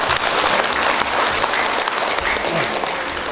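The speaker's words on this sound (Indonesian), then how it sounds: "Tepuk tangan gitu." A crowd at an official swearing-in ceremony in Dumai breaks into dense, steady applause that holds at a loud level for the whole moment.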